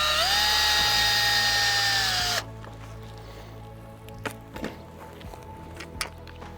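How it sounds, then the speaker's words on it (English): A power drill drives a screw into a wooden post for a tomato trellis, whining loudly and steadily for about two seconds before stopping, followed by a few soft clunks and handling sounds. "So I'm going to put a screw in on this post to wrap the string around."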